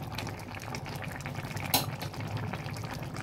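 Fish curry with potatoes bubbling in a pot, a steady close simmer of liquid with one brief sharp clatter partway through, no talking.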